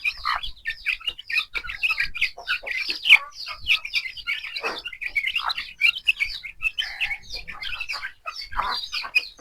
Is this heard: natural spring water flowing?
no